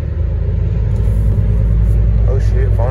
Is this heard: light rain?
no